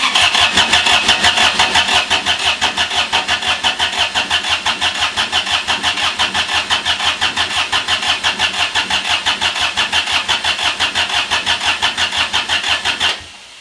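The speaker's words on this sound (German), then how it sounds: "muss erstmal der Motor gestartet werden, ohne dass er zündet" A Toro Greensmaster 3250 diesel engine cranks without firing, its starter churning in a steady, loud, rapid rhythm for about thirteen seconds before stopping abruptly.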